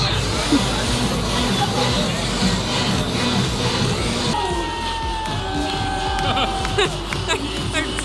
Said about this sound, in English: I have never seen crowds like this before, like, over in this area of the park.